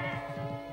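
Brandur, the cartoon cat from the Smurfs, lets out a single drawn-out meow, close and clear, with no talking over it.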